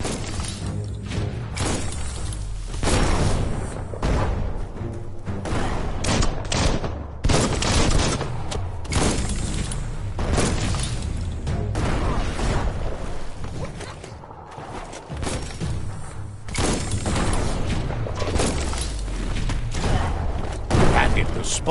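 Bomb lobber explosions during Biomutant gameplay, a dense run of repeated booms, crashes and gunfire-like bursts under continuous game noise, loud and busy throughout, with a voice talking over parts of it.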